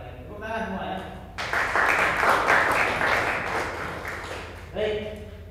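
Classroom applause bursts out after a short spoken phrase, a dense, loud wash of many hands clapping together for several seconds before fading, with a voice returning at the end.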